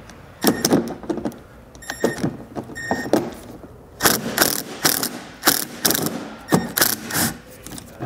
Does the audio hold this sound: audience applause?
no